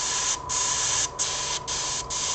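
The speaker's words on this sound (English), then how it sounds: "let's go ahead and just test it, make sure it's spraying out okay" An airbrush-style spray gun loaded with gray paint hisses in four steady bursts with short gaps between them, close and fairly loud, with no talking.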